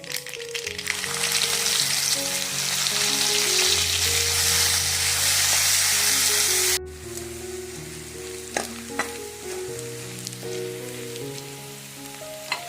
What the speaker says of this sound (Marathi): हे वाटलेलं मिरच्याचं वाटण टाकून घेऊ.